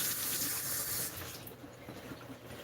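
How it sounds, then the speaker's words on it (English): Tap water runs steadily as hands are rinsed in a kitchen sink, a close, continuous splashing hiss that softens slightly partway through. "Let me rinse my hands off."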